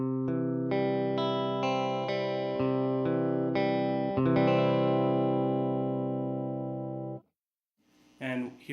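Electric guitar played through a Tweed amp with no reverb, a run of clean sustained chords and notes that ring out and stop dead, followed by a short voice.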